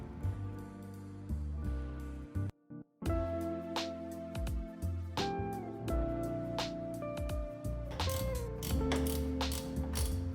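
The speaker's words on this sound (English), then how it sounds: "I'm gonna tighten up these two bolts for the windshield" A ratchet wrench tightens the windshield bolts on a Harley-Davidson Dyna, giving repeated close clicking strokes with a brief pause, then more rapid ratcheting.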